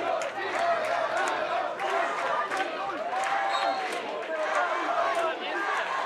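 Crowd at a lacrosse game, LC Custodes against Tel Aviv, roars and shouts in a sustained, dense wash of voices that keeps going throughout.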